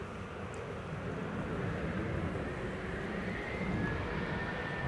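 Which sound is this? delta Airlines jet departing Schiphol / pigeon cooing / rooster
delta Airlines jet departing Schiphol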